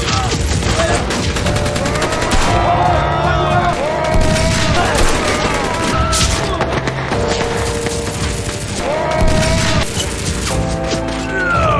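Brutal film shootout with dense bursts of gunfire, crashes and smashing impacts layered with music and shouting voices, loud and continuous throughout.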